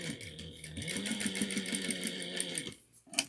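Sewing machine stitching with an 80-14 needle at a 2.5 stitch length, a fast steady mechanical whir running close and loud for nearly three seconds before stopping abruptly.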